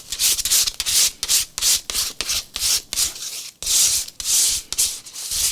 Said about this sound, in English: I'm just going to scrape that paint